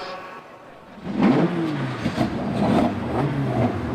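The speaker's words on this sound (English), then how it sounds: "Gentlemen, start your engines." Racing pick-up truck engines at Rockingham, in a British Pick-Up Truck Championship round, start up after a quiet second and then rev loudly and unevenly, several engines overlapping in rising and falling sweeps.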